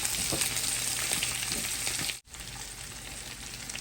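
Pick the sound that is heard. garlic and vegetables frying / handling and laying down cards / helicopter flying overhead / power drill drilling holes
garlic and vegetables frying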